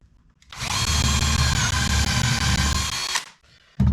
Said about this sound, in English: just to get a couple of drill bits, drill it into an old piece of wood